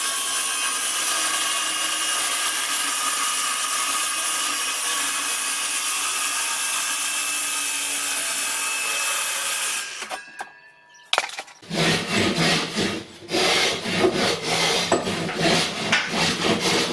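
Saw cutting through a tongue and groove MDF panel, starting with a long continuous rasping stroke, then a short pause followed by louder, choppier back-and-forth sawing, close up with no talking.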